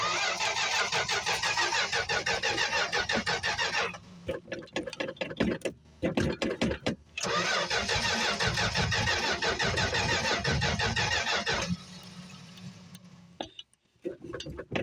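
Classic car engines, a 1969 Mustang Mach 1, a 1965 Plymouth Barracuda and a 1985 GMC tow truck, cold-starting on choke: loud sustained cranking and revving, a brief stumble and restart midway, then a quieter idle before cutting out.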